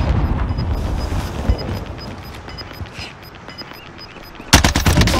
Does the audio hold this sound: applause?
no